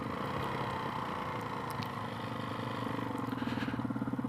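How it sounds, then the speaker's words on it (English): A Suzuki DRZ E-model with a big-bore stroker engine and a Barker's exhaust with a turn-down tip idles with a low, fairly quiet rumble. Its pulsing beat grows more distinct toward the end. "I do like this Barker's exhaust with the turn down tip on it."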